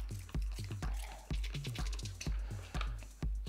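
Melted cocoa butter tempered at around 31 degrees is stirred, giving soft, rhythmic wet squishing and tapping strokes at a steady pace, close and quiet, with no talking.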